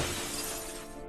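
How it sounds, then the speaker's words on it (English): Window glass explodes and shatters in a dense, bright crash that fills the whole moment, loud and close, with no voices. "the window explodes in a shatter of glass"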